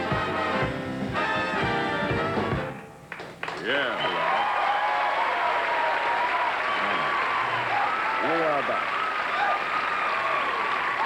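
A television studio audience bursts into loud, sustained applause and cheering that carries through to the end, briefly preceded by music before it drops out. A host's voice cuts in over the clapping.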